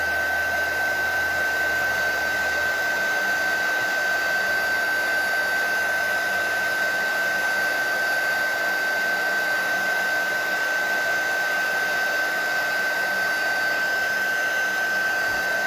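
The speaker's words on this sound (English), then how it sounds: "Oh, the heat tool gets hot." A heat embossing tool blows hot air in a steady, loud, unbroken whoosh with a constant high whine, running alone for the whole stretch.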